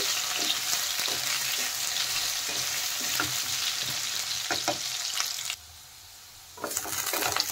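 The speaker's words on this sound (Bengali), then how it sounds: "ভালোভাবে একটু নেড়ে চেড়ে প্রথমে আলু আর কচুটা ভেজে নেব" Potatoes and taro fried in a pan with stirring give a steady close sizzle with scraping clatters, briefly dropping to near silence before the frying hiss returns.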